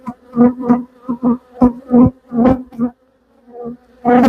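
Honeybees buzzing loudly and close after a hive frame holding queen cells is tapped on its side, the hum rising and falling in repeated pulses with a brief lull before swelling again.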